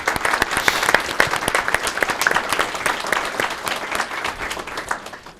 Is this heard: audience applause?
yes